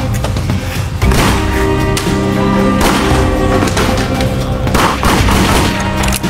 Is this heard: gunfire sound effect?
yes